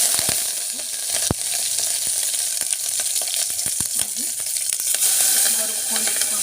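Mustard seeds sizzling in one or two spoons of hot oil in a kadai, a loud continuous hiss dotted with sharp, scattered pops as the seeds crackle.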